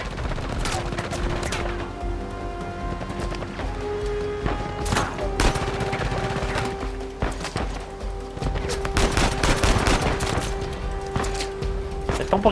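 Rapid bursts of gunfire crackle repeatedly over a steady Uncharted 4 game soundscape, with sharp shots clustering densely in several stretches and loud throughout.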